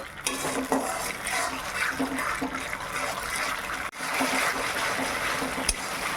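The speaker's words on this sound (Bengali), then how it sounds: "সসটা দিয়ে 1 মিনিট নেড়ে নেই" Chicken 65 is stirred with sauce in a pan, giving a continuous wet scraping and sloshing with a few light clinks of utensil on metal. The stirring pauses briefly halfway through.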